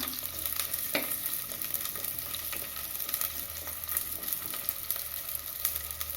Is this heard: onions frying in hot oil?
yes